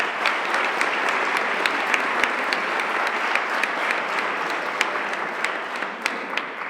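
An audience at a classical guitar competition applauds a guitarist and composer, a dense, even roar of clapping with occasional sharper individual claps standing out, sustained throughout.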